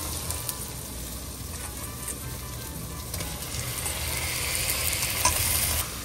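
Mutton frying in a pan with spinach and mint over high heat, a continuous close hiss of sizzling oil that grows slightly louder toward the end, no talk.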